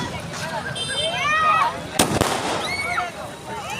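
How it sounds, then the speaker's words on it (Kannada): Diwali firecrackers and fireworks in Parashurampura: rising whistles, a sharp loud bang near the middle, then more whistling streaks, with people's voices in the background. "ಪಟಾಕಿ ಇಟ್ಟಿದ್ದಾರೆ"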